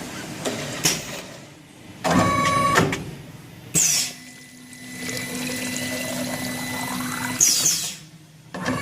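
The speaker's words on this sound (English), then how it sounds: "the second nozzle or the second piston is filling a little bit high" A two-head piston filler machine fills bottles on a labelling line with pneumatic hisses, clunks and liquid pouring in separate bursts over a faint steady mechanical hum.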